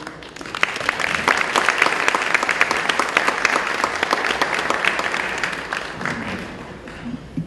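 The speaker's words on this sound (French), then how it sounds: "Mesdames et messieurs, aidez-nous chaudement à applaudir le Père Émile Cyprien de Spring Valley." A crowd gives warm applause for Father Émile Cyprien of Spring Valley, dense sustained clapping with distinct sharp claps, swelling quickly, holding strong for several seconds, then thinning toward the end.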